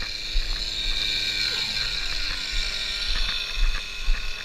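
A nitro RC car engine buzzes steadily at idle at a track, a thin whine with faint mechanical rattles and occasional low thumps.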